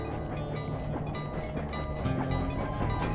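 Metallic clinking along a train track in the video game Sly 2, a busy mechanical rattle with rhythmic clacks layered over a steady rumbling game soundscape, continuous and moderately loud.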